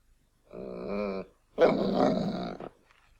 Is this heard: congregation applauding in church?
no